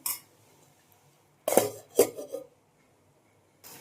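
A metal lid clanks onto a cooking pot of capsicum masala rice on a stove, a couple of sharp close clinks followed by a short rattle, with quiet gaps around them.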